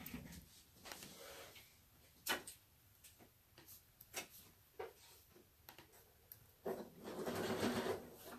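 A home sewing machine stitches a quarter-inch seam on a tulip tea towel in quick, faint bursts of rapid needle ticking, separated by short pauses and ending in a longer run.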